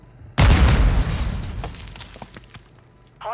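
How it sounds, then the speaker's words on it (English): A single heavy grenade blast in Call of Duty: Modern Warfare II, a deep booming burst that tails off into scattered debris rattles, followed by a brief electronic game tone at the end. "Grenade!"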